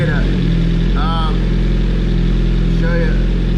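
A Suzuki GSX-R1000R motorcycle with a full exhaust idles at a steady, loud, throbbing pulse, with a surging idle being tuned. A person talks over the engine.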